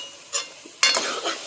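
Chopped tomatoes are mashed with spice powders in a pan for a brinjal kara kuzhambu, heard as two brief, close, squelching and scraping strokes.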